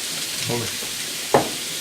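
Beef steak sizzles as it is stir-fried in a pan with oyster sauce, sesame oil and bamboo shoots, a soft continuous fry with a brief spatula stir midway and one sharp scrape near the end.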